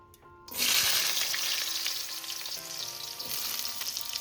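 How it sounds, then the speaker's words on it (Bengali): Potatoes hit hot mustard oil with a bit of salt, bursting into a loud, steady sizzle after a short quiet start, with occasional stirring scrapes in the pan. "সবার প্রথমে আমি আলুটাকে একটু ভেজে তুলে নেব।"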